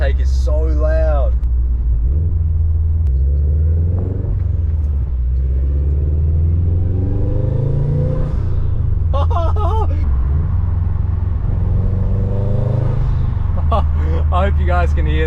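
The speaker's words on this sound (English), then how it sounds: "That intake is so loud." A loud, steady engine and intake roar from a tuned Subaru WRX with deep low rumble throughout, rising and falling slightly as the car revs, with voices speaking over it at moments.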